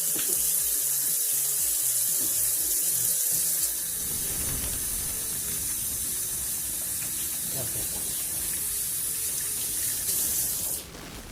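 A kitchen tap runs warm water into a sink as a steady, loud hissing stream that fills the whole stretch, then cuts off abruptly at the very end.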